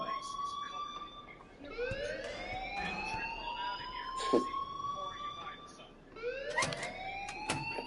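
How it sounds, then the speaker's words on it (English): A fire alarm in Life is Strange Remastered sounds as a rising, repeating siren-like wail that sweeps upward in waves, faint beneath voices talking and occasional sharp clicks. "please turn off that alarm since that's your job"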